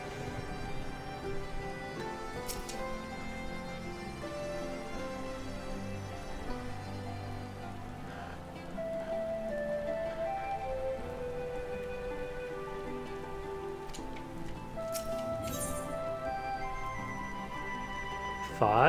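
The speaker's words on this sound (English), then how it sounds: "Yep, sure is raining." Steady rain in Final Fantasy XIV: Stormblood patters continuously over a soft ambient background, with a few faint clicks and thuds now and then.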